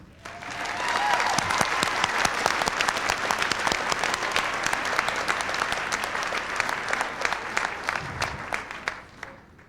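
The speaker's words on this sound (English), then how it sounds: "Round of applause." A graduation crowd at an Art Institute of Seattle ceremony claps loudly for the Class of 1999 graduates, a thick sustained round of applause with sharp individual claps poking through, tapering slightly near the end.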